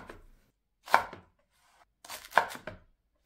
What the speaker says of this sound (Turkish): Soğanları da aynı şekilde küp küp doğruyoruz.